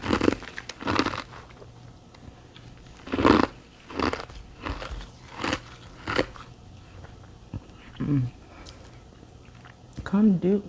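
Hard cube ice topped with freezer frost gets crunched between the teeth in several loud, close bites spread across the stretch, with a person talking in between the crunches.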